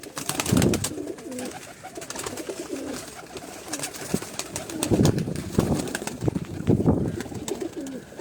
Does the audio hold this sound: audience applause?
no